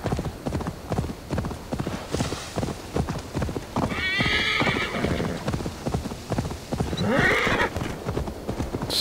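Rhythmic hoofbeats of a galloping horse in Assassin's Creed Valhalla, steady and close, with a couple of whinnies and snorts breaking through partway.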